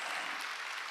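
A church congregation claps together during a Wednesday worship service, a dense, loud burst of many hands sustained evenly throughout with no voices.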